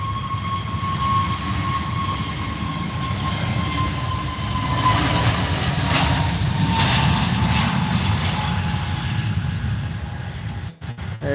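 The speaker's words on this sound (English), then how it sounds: "And now on the roll, we've got this EasyJet A320 Neo." An EasyJet Airbus A320neo airliner landing at Manchester Airport gives a steady, loud jet roar with a sustained whine, swelling slightly midway as it rolls past, with no talk.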